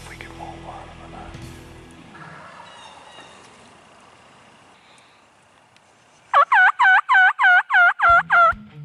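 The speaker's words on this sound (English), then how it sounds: "We had 3 toms." Several wild turkey toms gobble in a loud burst of about seven rapid, rattling calls close by, after a stretch of quiet woodland ambience with faint distant calls and a low voice.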